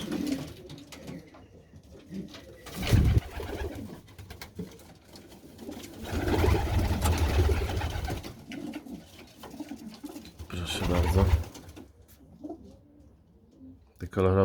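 Pigeons coo in low, rolling murmurs throughout inside a nearly full loft, with some wing flutters and rustling, and a person talks intermittently over the steady flock sounds.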